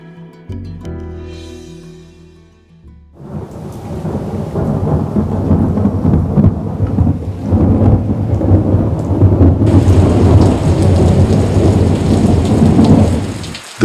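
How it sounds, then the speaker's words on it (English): Heavy monsoon rain pours steadily onto a forest, with deep rolling thunder rumbling through the downpour after a brief quieter opening, loud and continuous with no voices. "The first monsoon rains bring the forest alive."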